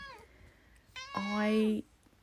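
A cat meows once, a drawn-out rising and falling call heard close and clear in a quiet room, preceded by a brief softer squeak.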